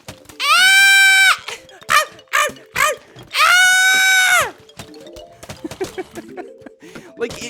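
A person vocally imitates a dog screaming, giving two long, loud, strained wails with shorter yelping cries between them, trailing off into quieter voice sounds.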